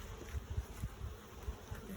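Honeybees buzzing on a beehive frame lifted out of the hive, a soft low continuous drone with small pulses as bees move about, faint and with no talking.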